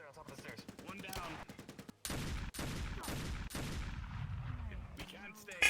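Video game gunfire: a burst of rapid shots, then several heavy, loud blasts in quick succession with echoing tails, close and intense, plus a faint voice near the end.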